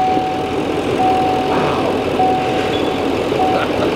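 A diesel 5.9 Cummins truck engine with a deleted emissions system runs at a steady idle, a continuous low rumble close by, with a faint intermittent beeping tone and people talking nearby.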